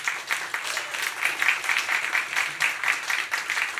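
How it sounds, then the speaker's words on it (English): An audience at an Actors' Equity Foundation awards ceremony claps in sustained, dense applause that holds at an even level for a few seconds. "applaud yourself."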